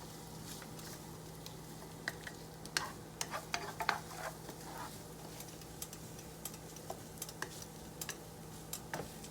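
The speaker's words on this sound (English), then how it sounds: "I'm just going to keep it stirred until the temperature comes back up." Shrimp fried rice sizzles steadily in a hot pan while a utensil stirs it, giving soft irregular scraping taps over a constant low frying hiss, close and fairly quiet with no talking.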